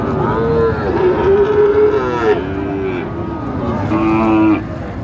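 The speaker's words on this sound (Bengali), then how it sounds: "এটা শাহিওয়াল নেপালি গির কিংবা গিরের মিক্সড আছে" A Sahiwal, Nepali Gir mixed bull calf lets out several loud, close moos, some drawn out and some short, with faint background noise.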